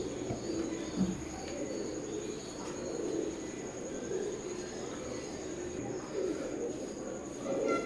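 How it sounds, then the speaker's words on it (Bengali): A pair of imported-bloodline Teddy pigeons sitting on eggs give soft, low cooing calls, faint amid steady background noise and a thin electrical whine, with no talking. "কবুতর জোড়া ডিমের উপর বসে আছে এখন"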